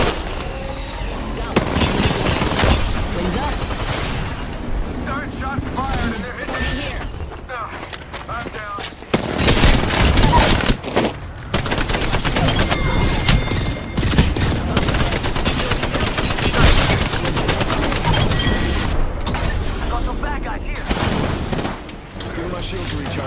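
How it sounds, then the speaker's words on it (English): Heavy gunfire in the video game Apex Legends, with dense, loud bursts of shots and explosions layered over busy battle noise and in-game voice callouts throughout. "Shots fired"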